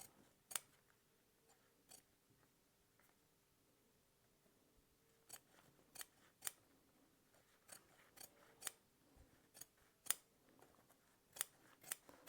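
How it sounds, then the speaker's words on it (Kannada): Scissors snip around the neckline of blouse fabric, a sparse run of crisp, close cutting clicks at irregular intervals in an otherwise quiet room, with no talking. "ಈ ರೀತಿ ಒಂದು ಅರ್ಧ ಇಂಚ್ ಮಾರ್ಜಿನ್ ಬಿಟ್ಟು ಸುತ್ತು ನೀವು ನೆಕ್ನ ಕಟ್ ಮಾಡಿಕೊಂಡ್ರೆ ಸಾಕು"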